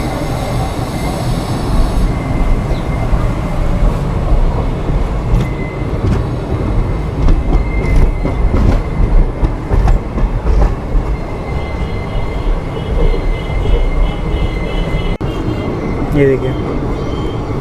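The Jammu Tawi–Jodhpur express passes very close by in the Rajasthan desert, near village houses, with a loud continuous rumble of wheels and rattling carriages throughout. Someone talks briefly over the noise.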